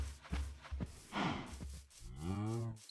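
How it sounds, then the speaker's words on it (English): Cows mooing in the video game Minecraft, a few short low grunting moos followed by a longer drawn-out moo, close and fairly quiet. "More cows."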